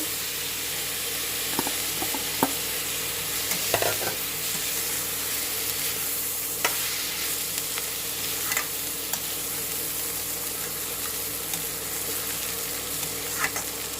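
Poha being stirred in a frying pan, Maharashtrian style, gentle continuous sizzle with intermittent spatula scrapes and taps, close and unaccompanied by speech.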